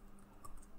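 A username is typed on a computer keyboard. A few faint, quick key clicks sound close by in a quiet room.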